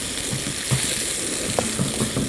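Sliced onions sautéing in hot oil for a Kerala-style crab curry, a soft continuous sizzle with a few light stirring clicks over a short stretch.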